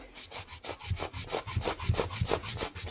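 A rag scrubs firmly over a surface in quick, rhythmic back-and-forth strokes, each pass a close, soft rasping swish, about a dozen in three seconds.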